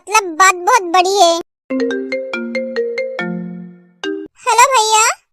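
A phone ringtone plays a melodic sequence of clear electronic tones, ringing for a few seconds between stretches of a child-like speaking voice before and after.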